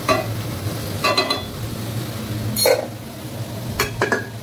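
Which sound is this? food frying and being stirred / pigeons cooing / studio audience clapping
food frying and being stirred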